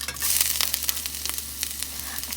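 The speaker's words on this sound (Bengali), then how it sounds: "এবার তো আমার লোহার কড়াইয়ের মধ্যে এখানে দিয়ে দিয়েছি সর্ষের তেল আর এর মধ্যে দিয়ে দেবো হচ্ছে আদা আর কারি পাতা" Ginger and curry leaves fry in mustard oil in an iron wok, giving a close, loud, steady sizzle dotted with sharp crackles and pops.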